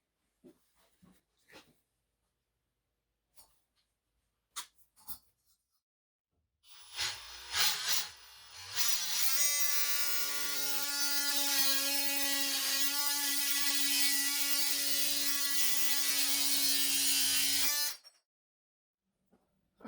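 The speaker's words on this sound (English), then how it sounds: "I've put a metal cutting blade in this multi-tool." A multi-tool fitted with a metal cutting blade saws through aluminum in one loud continuous buzzing whine lasting about eleven seconds, preceded by a few scattered clicks and handling taps and followed by silence.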